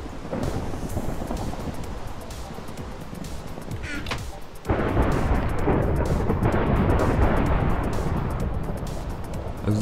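A Minecraft thunderstorm: heavy rain pours steadily with a deep rumble of thunder, the roar suddenly growing louder midway and staying intense, with no speech.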